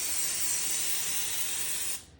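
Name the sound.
Pam cooking spray sprayed onto plastic wrap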